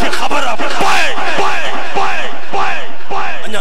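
A large congregation at a Friday sermon gathering shouts religious slogans in unison, loud, rhythmic massed call bursts repeated about every half second, close and overpowering, with the crowd's voices filling the whole stretch.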